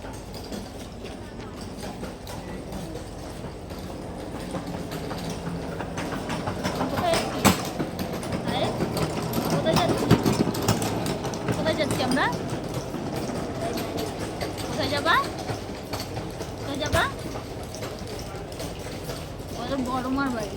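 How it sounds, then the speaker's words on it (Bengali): A passenger train pulls into a station, its rolling rumble and rhythmic clatter of wheels building and lingering for about twenty seconds amid busy platform noise and people talking nearby. "অনেকক্ষণ অপেক্ষা করার পর দেখো আমাদের ট্রেনটা চলে আসলো"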